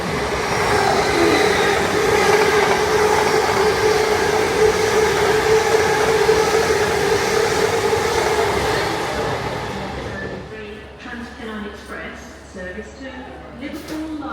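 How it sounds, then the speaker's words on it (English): An express train rumbles past loudly and steadily for about ten seconds without stopping, its roar and grinding holding, then dropping away to quieter rattling and knocks. "here's our next train"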